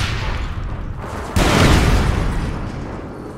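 Gunfire and explosions in the online shooter APB Reloaded: steady background combat noise, then a sudden loud blast erupts about a third of the way in and rumbles on, slowly fading.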